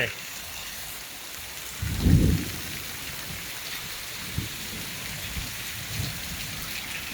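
Heavy tropical storm rain pours steadily on surfaces, a dense hiss throughout, with a deep rumble of thunder rolling in near the start and a few fainter low thuds later, no talking.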